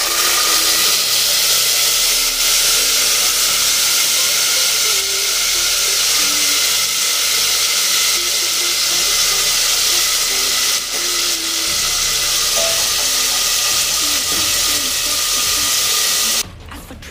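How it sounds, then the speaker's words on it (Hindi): Boiled chickpeas go into a hot pan with roasted cumin, giving a loud, steady sizzle and hiss that carries on unbroken for the whole stretch before cutting off at the end, with a voice faintly underneath. "अब हम इसमें डालेंगे चने जो हमने निकाल के रखे थे, बॉयल वाले जो चने हैं वो ऐड कर देंगे।"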